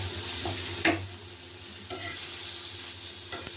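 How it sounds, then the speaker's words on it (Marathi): Green chillies roast in a pan for dhaba-style mutter paneer, sizzling steadily while a spoon stirs them in several distinct scraping strokes, close and without talk. "त्यात मिरची पण भाजून घ्यायची थोडीशी।"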